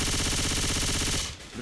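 Rapid automatic gunfire from Left 4 Dead 2 rattles in a dense, loud, continuous burst, then cuts off abruptly near the end, leaving a brief quieter tail.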